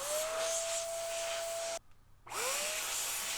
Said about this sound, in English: definitely moves all that dust out of there real fast and quick. So definitely a nice little powerful blower here